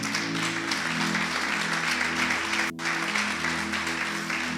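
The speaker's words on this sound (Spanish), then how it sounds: "Dale un aplauso al Rey de Reyes." A church congregation applauds during a sermon, a continuous, even wash of clapping layered over sustained organ or keyboard chords, with a brief dip partway through before it resumes.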